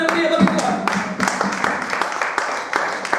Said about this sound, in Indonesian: Kalau mau tepuk tangan yang pria bagi Tuhan.